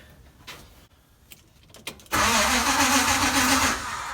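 A Chrysler VG Valiant hardtop engine starts: a few quiet clicks and short bursts of cranking give way, about halfway through, to the engine catching and settling into a loud, steady idle that eases slightly near the end.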